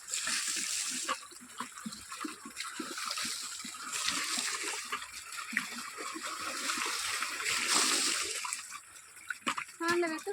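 Water from buckets is poured over seedlings in a farm field, a broad rushing splash that rises and falls across several pours, with people talking over it.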